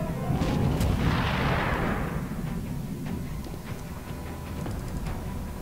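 Gunfire in a video game after an order to open fire: a burst of rumbling shots in the first couple of seconds, then fading to a steady, muffled din with scattered faint pops.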